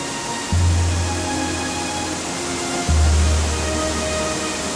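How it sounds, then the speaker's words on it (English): A waterfall in Laos pouring into a shaded pool under trees, a steady broadband rush of water with no voices, joined twice by a deeper low drone that swells in and holds for a couple of seconds. "the tranquil sound of the water"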